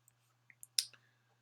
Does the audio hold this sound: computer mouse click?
yes